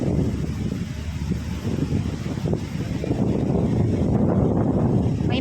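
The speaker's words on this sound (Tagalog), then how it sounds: "Lakas ng hangin." Strong wind roars and buffets the microphone in steady low gusts in a park with large trees, swelling louder toward the end.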